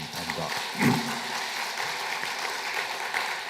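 A church congregation at an Easter Sunday service applauds the Zion choir with a fairly soft, even spread of clapping that carries on steadily, with a brief louder swell near the start.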